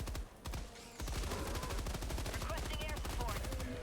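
Rapid automatic gunfire in the video game Helldivers 2, dense bursts of shots firing continuously and loudly after a brief pause near the start, with no talk over it.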